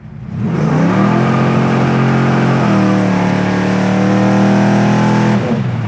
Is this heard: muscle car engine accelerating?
yes